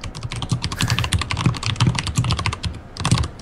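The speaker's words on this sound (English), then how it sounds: "Sorry, I was typing." Rapid, steady typing on a computer keyboard: dense, close clicking keystrokes run without pause, with no voices.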